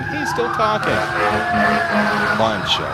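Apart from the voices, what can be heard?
fire truck or ambulance siren passing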